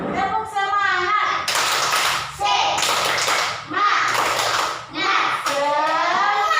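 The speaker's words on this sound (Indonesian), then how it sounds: "Satu kali lagi. Tepuk semangat." Schoolchildren repeat the 'tepuk semangat' cheer in a classroom, sung group voices broken by sharp, loud bursts of collective clapping in a quick rhythm.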